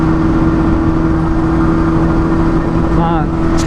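A Honda Hornet 250 motorcycle revving inside a tunnel, a loud steady engine drone with echoing reverb and a short rising rev near the end.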